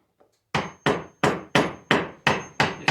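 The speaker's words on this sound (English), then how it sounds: "Then I took a smaller chisel." A hammer strikes a small chisel cutting out wood for a napkin holder, seven sharp, evenly spaced taps, close and loud with no talking.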